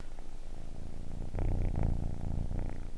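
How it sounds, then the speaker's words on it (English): A small kitten purring close to the microphone, a low rumbling motorboat-like purr that swells in loudness midway and carries on steadily, with no speech over it. "she's got like the little like motorboat purrs"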